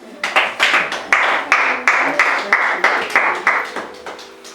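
A church congregation at a prayer gathering claps together in a steady rhythm, about a dozen sharp, fairly close bursts of applause following one another with no pauses.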